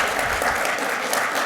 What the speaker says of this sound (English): First up, a quick round of applause for Trinity.